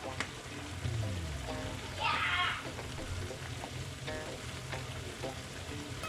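Beef liver seasoned with black pepper, garlic powder and paprika frying in a pan, a steady soft sizzle with a brief louder burst of hissing as it is stirred, faint voices in the background.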